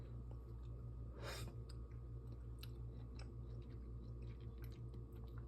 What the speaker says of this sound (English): let me taste the peas.